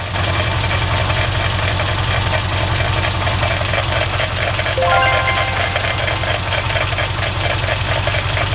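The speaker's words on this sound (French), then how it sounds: "Et dis donc, il n'y aurait pas comme un bruit dans ton moteur là?" A car engine idles loudly with a steady, rapid knocking and rubbing rhythm throughout, from rubbing near the oil pan, close up, with no talking.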